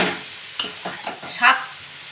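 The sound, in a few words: carrots frying in a pan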